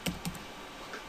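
Two quick key clicks on a computer keyboard as a radio contest call sign is typed, followed by a softer tap, all close and quiet over low room noise.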